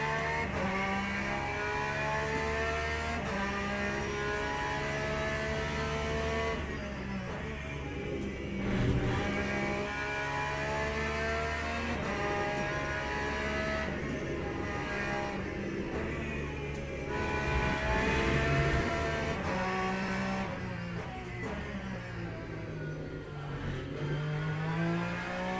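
Race car engine in Le Mans Ultimate, a car with better rotation than the Corvette, heard during a six-hour Circuit of the Americas race: a steady, droning engine note that rises and falls with shifts and revs throughout, with no talk.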